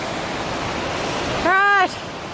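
A big rushing mountain river on the Pacific Crest Trail near Benson Pass, a loud, steady, close roar of churning water filling the scene, briefly overlaid by a short whooping voice.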